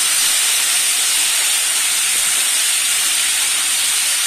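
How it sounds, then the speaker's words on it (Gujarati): Tomatoes and ginger pieces hit a hot pan with green chillies while a paneer gravy is being cooked, giving a loud, steady, unbroken hiss of sizzling that holds evenly throughout, with no voices. "ત્યારબાદ આપણે નાખીશું આદુના ટુકડા અને એની અંદર નાખી દઈશું ટામેટા"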